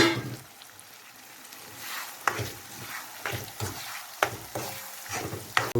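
Chana dal and onion frying in a pan with turmeric and paneer masala, with a soft continuous sizzle broken by several sharp stirring scrapes and clacks of a spoon, close up.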